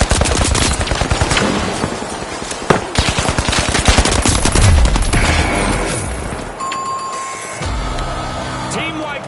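Gunfire and a frag grenade blast in The Finals arena shooter: dense, loud bursts of rapid automatic fire, a sharp explosive crack partway through, then scattered shots and electronic game tones, with a commentator talking over the action.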